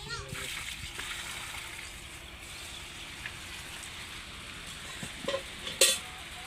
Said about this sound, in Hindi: पौधों को पानी दे रहा है जी, सब पौधों को